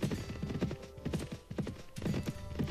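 Horse hooves galloping along a coast in the video game Mount & Blade Warband, a close, loud, rapid rhythmic clip-clop that continues without break.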